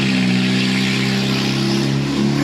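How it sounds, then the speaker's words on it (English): A loud car engine roars close by with a steady, throaty drone, rising slightly near the end as it passes. "I hear that car going by."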